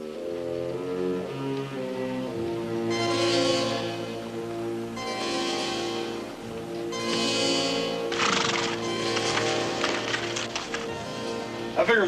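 A horse whinnies in several long, loud neighs over a western ranch scene, with a few hoof clops and thuds near the end; the calls are close and dominate the sound.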